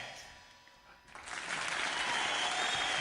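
A faint quiet moment gives way abruptly to a burst of applause that swells and holds steady, clapping from a crowd.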